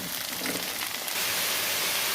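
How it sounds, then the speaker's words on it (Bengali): Cauliflower stalks fry with spices in a pan, giving a steady, close hiss and sizzle that grows slightly louder and brighter partway through, with no talking. "কত সুন্দর একটা আমি ভাজি করতেছি দেখতে পাচ্ছেন"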